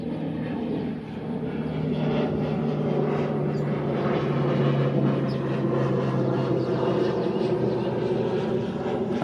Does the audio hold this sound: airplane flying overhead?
yes